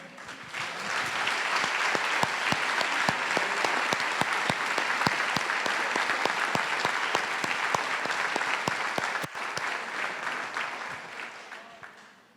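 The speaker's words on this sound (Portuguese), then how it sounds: "Nós podemos aplaudir esse Deus, não é?" A church congregation in Porto Alegre applauds together, a full, steady wash of many hands clapping, with some sharper individual claps punctuating it, holding strong for most of the stretch before fading out.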